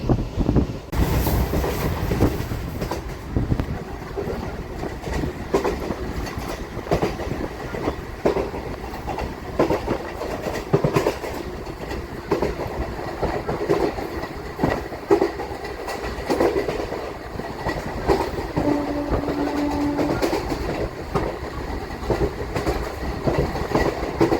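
A MEMU passenger train runs on rails between Renigunta and Nellore, with steady rumbling and rhythmic wheel clatter filling the whole stretch, recorded close from inside the carriage with no talk.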